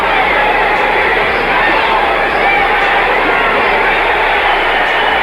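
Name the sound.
boxing crowd reacting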